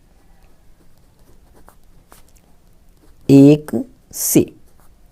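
A pen writing out an equation during a maths lesson, faint scratchy strokes at a low level before a teacher's voice speaks close up.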